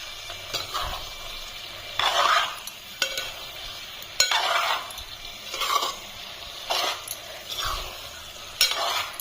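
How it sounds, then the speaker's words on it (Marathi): Spoon gently stirring a vegetable biryani mix with paneer pieces in a pan, producing intermittent scraping, clattering strokes over a faint sizzle, close and rhythmic with pauses between. "आता हे हळूच भाजी मिक्स करते नाहीतर पनीरचे तुकडे कसे एकदम बारीक होणार"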